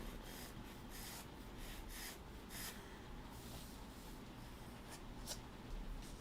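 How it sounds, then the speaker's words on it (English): Pastel pencils rubbing across Pastelbord while painting a hibiscus, a soft continuous scratchy friction with faint strokes repeating close by, no talking. "pastel pencils are going really nicely on top of that"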